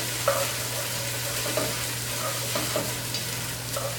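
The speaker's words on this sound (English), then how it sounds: "what we want to do on high heat is add 2 tablespoons of balsamic vinegar. Put that in with the onions." Onions and two tablespoons of balsamic vinegar sizzle in a pan over high heat, a steady close frying hiss with light stirring scrapes and small pops, no talking.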